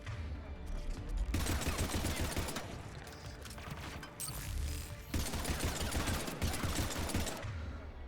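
Gunfire in the video game Mass Effect 3, dense bursts of rapid automatic shooting in two long loud stretches with a short lull between, with no voices over it.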